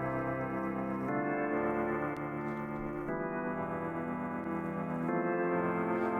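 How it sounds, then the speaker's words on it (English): An audio plugin's tape echo effect repeats sustained musical tones, layered and steady at moderate level, with shifts between phrases every second or two. "we could just solely have the tape echo and hear what that sounds like"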